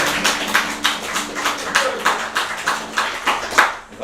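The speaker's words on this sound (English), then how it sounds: "Round of applause." An audience at a live podcast in Dublin claps in a brisk, fairly even rhythm of sharp, close claps that run steadily for a few seconds before easing off.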